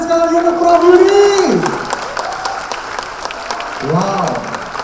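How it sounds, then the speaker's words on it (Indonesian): An audience at an ITS alumni gathering applauds Prof Yudi Latif; steady crowd clapping runs underneath, loud and close, while a voice speaks over the start and again near the end. "Boleh minta tepuk tangan sekali lagi untuk Prof Yudi."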